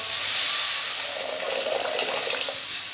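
Ground mustard paste thinned with water is poured into a tomato-based curry, giving a close, continuous liquid splashing and sizzling hiss that fades slightly over the pour.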